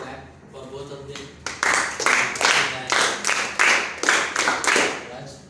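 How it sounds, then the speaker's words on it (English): An audience at a forum on criminal law reform bills claps for two speakers, starting after a short spoken line and continuing in moderately loud, uneven bursts of clapping. "Please clap for both of them."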